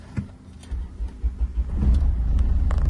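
A car engine starts nearby, a short cranking stutter giving way to a low, steady idle rumble that holds to the end, close and fairly loud with no talking.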